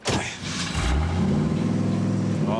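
A rebuilt big-block engine in a 1974 Corvette Stingray catches and revs up to a deep, loud, throaty idle that rumbles on steadily.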